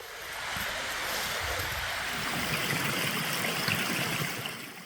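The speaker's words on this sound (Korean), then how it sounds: "여기서부터는 오른쪽에 계곡을 끼고 물소리를 들으며 내려가게 됩니다" Steady rushing of a mountain valley stream at Daegwallyeong, a continuous broad wash of flowing water heard from nearby, fairly soft with no voices.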